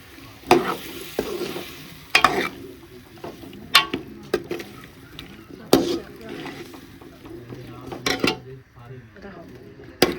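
A spoon stirs potatoes through sizzling masala in a pan, sharp metallic scrapes and clanks recurring every second or two over a constant frying hiss, close and fairly loud.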